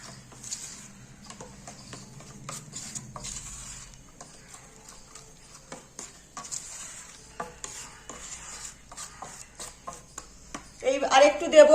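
A spoon stirs batter mixed with mint and coriander paste, soft repeated scraping and tapping against a bowl, close and quiet, with someone talking over it and a louder burst near the end.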